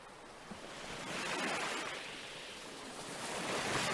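Ocean waves wash in a steady hiss of surf, swelling and receding gently with no voices.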